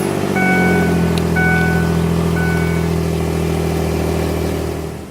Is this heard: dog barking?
no